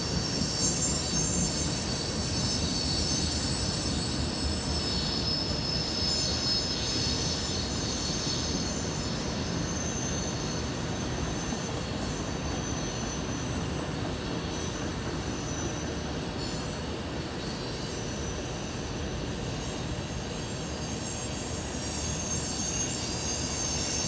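A northbound CSX ethanol freight train of empty tank cars, hauled by CP locomotives, rolls past at night with a steady, continuous rumble and high wheel squeal that hold loud throughout.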